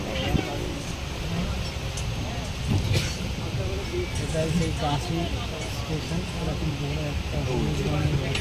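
Steady rumble and rattle of a moving train at Kashi with occasional clanks, people talking faintly throughout.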